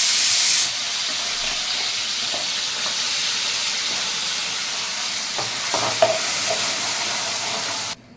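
Vegetable tempering frying in a pan for a mixed cashew, green pea and paneer dish, a steady close sizzling hiss with occasional stirring clicks, ending abruptly.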